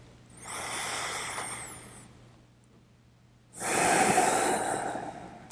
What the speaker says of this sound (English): push your breath out gently.